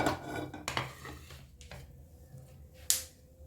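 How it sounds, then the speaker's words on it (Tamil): Roasted seeds and sesame being tipped from a pan onto a plate for homemade nut laddoos, with several close metallic scrapes and clinks, the last one sharp and bright, in a quiet kitchen. "இப்போ இதையும் ஒரு பிளேட்டுக்கு மாற்றிக்கிறேன்."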